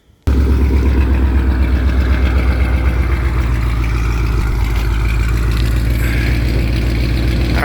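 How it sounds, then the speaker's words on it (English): A Ford Mustang S550 V8 fires up and settles into a loud, steady lumpy idle that runs on close by without any talking. "let me go ahead and start the car up"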